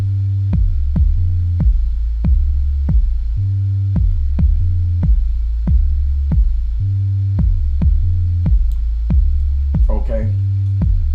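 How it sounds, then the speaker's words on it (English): An FL Studio beat with stock-plugin saturation distortion adding buzziness, heard as a steady, evenly repeating kick-driven loop with a thick low end and a faint higher flourish near the end, with no voices. "if I want to add a little saturation, which is distorting, to bring up that buzziness like we add distortion to the track"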